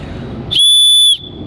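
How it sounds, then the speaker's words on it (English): Loud, shrill single blast of about half a second from a survival whistle in a Kizlyar Supreme Russian survival kit, a piercing steady tone standing alone against faint background hiss. "I like the whistle. I wish it was louder. Let's try it one more time."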